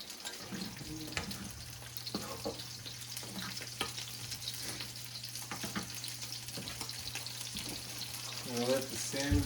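Salmon skin fries in a hot pan with a steady broadband sizzle, a low hum running underneath, occasional clinks and a brief burst of running water near the end.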